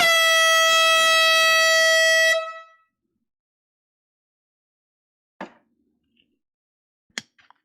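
A loud, blaring air horn sounds for about two seconds during a live vinyl record sale and cuts off, followed by silence and a couple of faint clicks.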